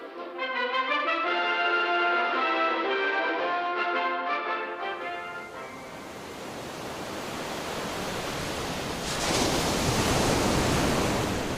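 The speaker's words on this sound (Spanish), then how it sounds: "El Océano Índico." Indian Ocean waves roll in as a broad, steady roar of surf that rises after a passage of music fades out, loud and continuous with a surging swell near the end.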